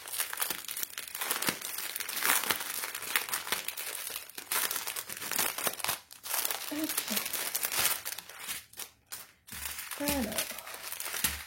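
Crinkly plastic packaging of a diamond painting kit is opened up close, making loud, continuous crumpling and rustling with some tearing. A voice speaks briefly partway through.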